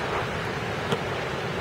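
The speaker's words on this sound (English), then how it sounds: "the rain seems to be getting very heavy now." Heavy rain and gusting wind from Tropical Storm Irene in Boston form a dense, steady hiss and roar with no voices.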